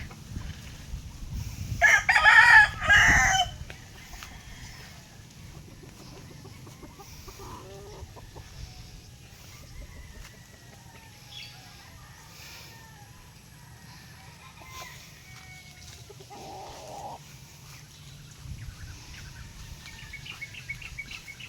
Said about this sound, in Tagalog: Tada! Ang mga manok.